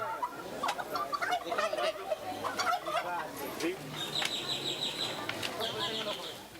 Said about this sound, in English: so is the guajolote, or domesticated turkey